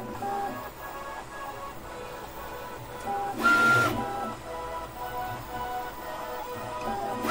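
A Creality K1 Max 3D printer running its flow calibration: a steady mechanical whir with motor hum throughout, rising into a louder, brighter burst midway with a short tonal whine, with no voices.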